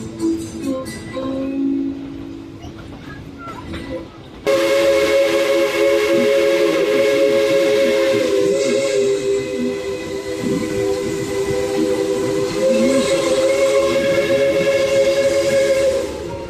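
A Tweetsie Railroad steam locomotive lets out a long, loud whistle blast that holds steady over the hiss and rumble of the moving train.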